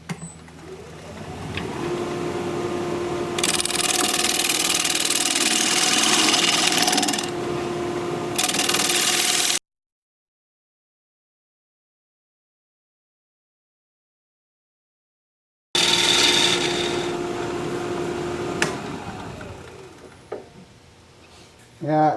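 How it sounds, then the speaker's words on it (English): A wood lathe spins at 1200 RPM while a bowl gouge hollows out a wooden bowl, making a steady whirring hum with rougher scraping stretches. The sound cuts to silence midway, then resumes more faintly. "we're going to get to hollowing out this bowl"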